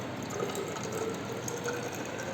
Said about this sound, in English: Now, after rinsing the measuring cylinder